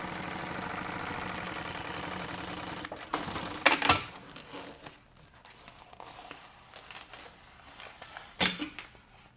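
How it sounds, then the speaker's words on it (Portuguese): A sewing machine runs a topstitch on a fabric case, a dense mechanical whir lasting several seconds, then slows into softer intermittent stitching with a few louder bumps and clatters. "aí você passa essa parte e faz um pesponto aqui"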